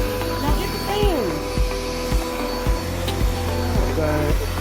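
A vacuum cleaner runs steadily through a living room, a continuous whirring drone near and loud, broken by regular clicks and small pitch shifts as it is pushed around.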